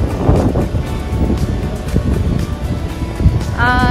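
Loud, rumbling wind at Niagara Falls, New York, buffets the microphone continuously, with gusty low roaring throughout and a faint tone near the end.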